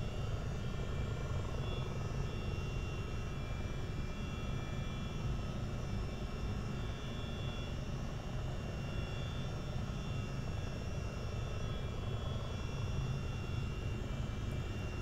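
A Chinook CH-47D tandem-rotor helicopter in Microsoft Flight Simulator 2024 drones steadily with a dense, even engine and rotor roar, constant in level throughout and with no voices.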